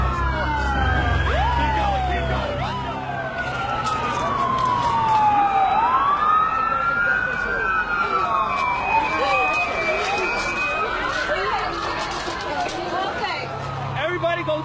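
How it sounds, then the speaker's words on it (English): An ambulance siren wails loudly through evacuating Manhattan streets, its rising and falling sweeps overlapping with other emergency sirens amid crowd noise and traffic during a terror attack. "The ambulance is about 100 feet ahead."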